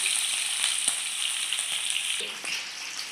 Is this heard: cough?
no